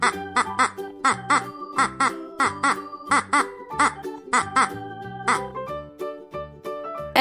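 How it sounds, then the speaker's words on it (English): A duck quacks in a rapid series of short, nasal honks, about a dozen bursts in bouncy rhythm, close and clear with nothing else behind them. "Duck."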